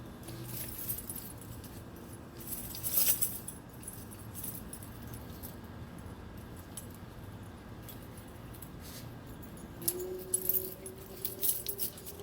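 Keys jangle beside a 2014 Ford Mustang GT during a thermostat job in a quiet setting, a brief metallic rattle near the start and a longer cluster of clinks toward the end.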